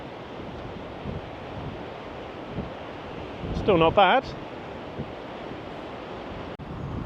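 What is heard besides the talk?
sea waves and wind at the coast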